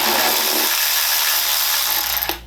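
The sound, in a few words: power tool removing bolts from a BMW E36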